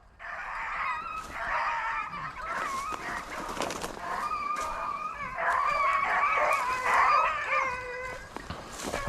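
Pack of rabbit-hunting beagles bays and barks continuously outdoors, a chorus of overlapping yelps and howls at moderate distance, with no talk.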